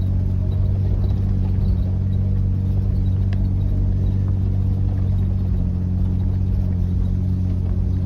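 Several 4WD vehicles, including an FJ, crawl up a steep high-country track, giving a steady low engine rumble and drone throughout with no clear revving peaks.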